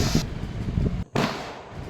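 Deepawali firecrackers burst with loud, sharp cracks in quick succession, including a heavy bang after a brief gap, on a rainy festival night with no talking.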